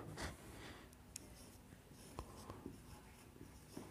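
Quiet writing during a lecture on DNA as genetic material: soft scratchy pen or chalk strokes with small intermittent taps and pauses, in a still room.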